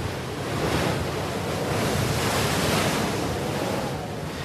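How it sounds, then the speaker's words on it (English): Rough sea at wind force 8 roars continuously, heavy surf and strong gusting wind blending into one loud, unbroken rush. "It's very rough weather, very difficult weather."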